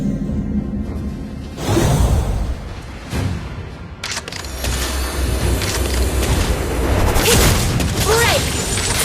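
Structure destruction in the Mobile Legends mobile game: loud booming blasts and swooshing bursts stack densely into a sustained crash of game effects, with a voice announcer speaking over the battle noise.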